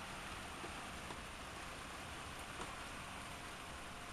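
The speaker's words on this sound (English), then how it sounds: "The rain was coming down so hard." Heavy rain pours down outdoors in a loud, dense, unbroken hiss, with occasional sharper drops and splashes standing out against the steady downpour; no one speaks.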